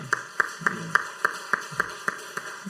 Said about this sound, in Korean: 우리 환영의 박수를 드리도록 그렇게 하겠습니다